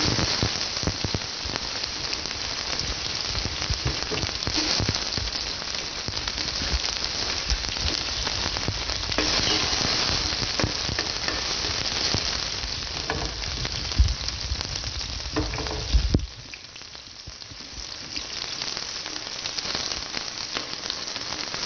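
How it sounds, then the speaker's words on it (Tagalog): Onion sautéing in a very hot casserole for oxtail and beef feet balbacua, a steady dense sizzle and crackle that runs loud and continuous, then drops abruptly to a softer hiss near the end, with no speech. "Mga bangers, sobrang init na ng ating casserole. Gigisa natin yung ating onion."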